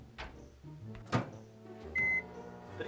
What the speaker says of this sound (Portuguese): a gente coloca os bolinhos 30 segundos no micro-ondas